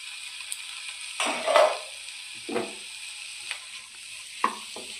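Chopped tomatoes being sautéed with bitter gourd in a pan: a few separate scraping stirs over a soft, steady sizzle, close by and with no talk.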